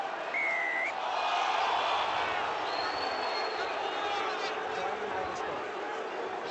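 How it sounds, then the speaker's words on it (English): Sparse rugby crowd at Parc y Scarlets singing Sospan Fach during Scarlets v Ulster, a steady, distant, diffuse wash of voices throughout, with a commentator's voice faintly over it. "Sospenvach rings out around the Parker Scarlets from the sparse-ish crowd"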